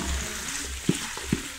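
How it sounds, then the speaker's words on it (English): Meat being stirred in a cooking pot for pilau, with a steady low sizzle and two distinct scraping knocks of the spoon against the pot close by. "And now you stir."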